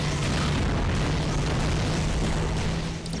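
Rocket missile explosion in the video game Agent Under Fire on the streets of Bucharest, a heavy booming blast with a long rumbling roar that holds loud and steady for several seconds before easing slightly.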